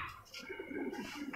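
A pigeon cooing on a rooftop where pigeons are kept, soft low warbling coos repeated over about a second, fairly quiet and close.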